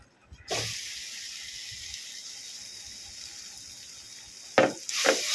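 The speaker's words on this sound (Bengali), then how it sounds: "ভেজে নেব মশলাগুলো।" Ground spices fry in a pan over low gas, a faint steady sizzle with brief stirring scrapes near the start and end, no talking.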